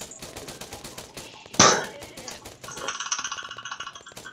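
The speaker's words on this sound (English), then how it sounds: "It's just people shooting at us." Gunfire during a police operation in a video game: rapid, sharp shots in quick succession, then one loud blast, then more tight bursts of automatic fire, all close and dominant with no talk over them.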